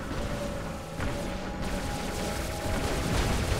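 Rapid bursts of robot gunfire in the War Robots video game, a fairly faint, continuous rattle of shots with mechanical clanks, no talking.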